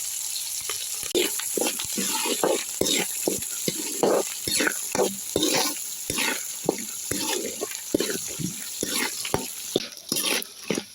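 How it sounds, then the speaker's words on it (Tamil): Dried chilies, soaked chickpeas and curry leaves crackle and sizzle in a hot pan as they are stirred, with steady close frying noise and frequent sharp clicks of a spoon scraping the pan throughout, for tamarind rice. "இதெல்லாம் நல்லா வதங்கிட்டு"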